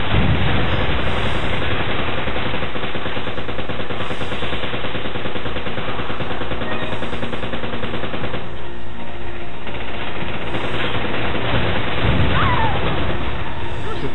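Sustained machine gun fire from an enemy in Resident Evil 5, loud and continuous bursts of rapid shots that run without pause for the whole stretch.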